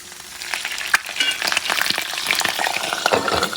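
An egg frying in a hot pan, with steady crackling and spitting sizzle punctuated by sharp pops, loud and close with no talking.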